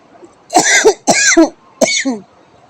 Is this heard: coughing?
yes